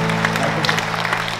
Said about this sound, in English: please give a round of applause for these great people here